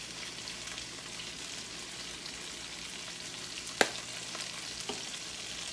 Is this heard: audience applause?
no